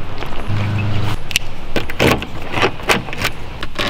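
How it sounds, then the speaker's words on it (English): The small metal fuel filler door on an Audi TT is opened, giving a brief motor hum followed by several sharp clicks and taps up close, with no talking. "This little gas cap door, it's so cute, but it's metal."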